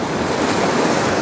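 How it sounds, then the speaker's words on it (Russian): Stormy sea waves roll onto Anapa beach on a windy day, a steady, loud roar of surf mixed with gusting wind buffeting the microphone, with no voices. "там дальше наблюдается шторм"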